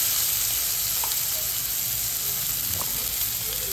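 Onion sautéing in butter in a pan for pav bhaji, a steady close sizzle throughout with a couple of faint spatula scrapes.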